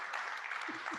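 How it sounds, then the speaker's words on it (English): A retail innovation conference audience at GMDC Retail Tomorrow applauds itself with a short, steady wash of clapping from a room full of people, with a voice briefly audible near the end. "Give yourselves a round of applause."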